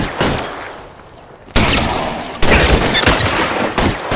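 Gunfire in the video game L.A. Noire, loud bursts of rapid shots from close range, separated by short lulls, with no voices.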